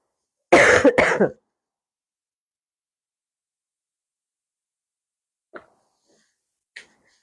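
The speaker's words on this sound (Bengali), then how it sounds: "আস্তে আস্তে কথা বলতেছি তাও কাশি আসতেছে" A single loud, close cough burst at the start, followed by long silence and two faint, brief sounds near the end.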